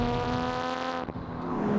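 A Toyota Chaser's turbocharged engine revs hard with a strong harmonic drone, then abruptly drops off in a rushing whoosh of air before building again.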